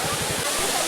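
An artificial waterfall at a picnic spot in Bangalore gives a steady, close rushing roar of falling water, with a voice faintly beneath it.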